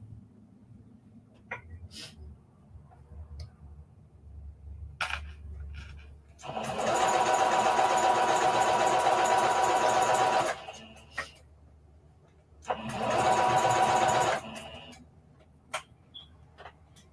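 Sewing machine stitching a reversible bucket hat, running in two steady buzzing bursts of several seconds each, separated by quiet pauses with small clicks and handling noises.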